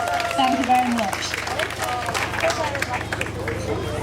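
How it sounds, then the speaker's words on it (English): Audience applause at a vintage fashion show on a catwalk: scattered clapping and crowd murmur under a host's amplified voice, with footsteps and brief background chatter, fairly moderate in level. "big round of applause"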